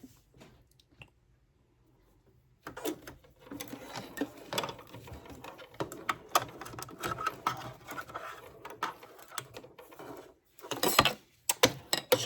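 Sewing machine stitching through collar webbing, rapid mechanical clattering bursts that start and stop after a quiet opening, close and moderately loud.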